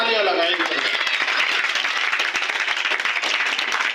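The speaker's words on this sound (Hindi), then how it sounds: "एक बार जोर से तालियां लगाएंगे" Audience claps loudly at a school opening in Bhusawal, a thick, continuous burst of applause close by, with a voice briefly audible at the start.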